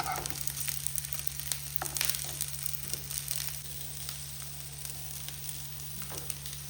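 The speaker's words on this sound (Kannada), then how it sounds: "ತೆಂಗಿನಕಾಯಿ ಕಾಳು ಮೆಣಸೆಲ್ಲ ಟರ್ನ್ ಮಾಡಿ ಫ್ರೈ ಮಾಡಬೇಕು" Grated coconut and black pepper fry and are turned in a pan, a continuous sizzle with scattered sharp crackles and occasional stirring scrapes, steady and close.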